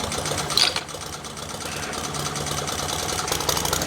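A Honda IZY petrol lawnmower engine starts with a brief louder burst, then settles into a steady, close, buzzing idle that runs on evenly to the end.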